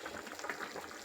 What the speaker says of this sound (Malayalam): നമ്മുടെ മീൻകറി ഇവിടെ തിളച്ച് നല്ലതുപോലെ പറ്റി